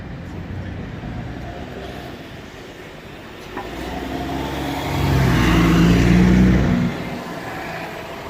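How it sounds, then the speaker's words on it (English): Train station ambience at East Croydon station in London, with a steady rumble of rail traffic that swells into a louder passing train or vehicle midway before easing off again. "So here I am at East Croydon station, which is my local train station."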